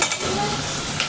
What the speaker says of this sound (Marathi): कांदा आपला थोडासा सॉफ्ट झालेला आहे. याला अजून थोडंसं फ्राय करायचं आहे.